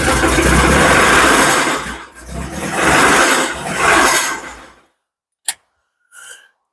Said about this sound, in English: got it running, and well, she's got a little bit of an engine noise